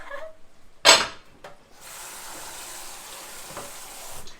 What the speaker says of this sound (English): we're going to drain our pasta and then run it under cold water to stop that cooking process